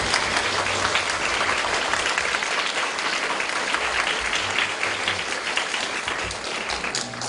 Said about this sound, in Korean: 귀한 오늘 걸음을 해주셨는데 다시 한번 큰 박수로 감사를 드립니다.